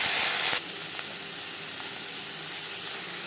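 Bottle gourd stalks hit hot oil with garlic and sizzle in a loud burst that settles quickly into a steady, softer frying hiss, with nobody talking.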